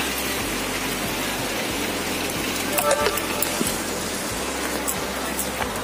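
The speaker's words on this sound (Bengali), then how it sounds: "প্রচন্ড জোরে জোরে বৃষ্টি হচ্ছে এখন, দেখো কত জোর বৃষ্টি হচ্ছে।" Heavy rain falls hard onto a courtyard in a loud, constant roar, with a low steady hum beneath it and a few small knocks near the middle.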